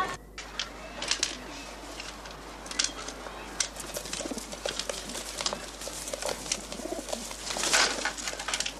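Pigeons coo in a busy space, soft repeated coos among fluttering, pattering and scuffling sounds throughout, with faint voices now and then.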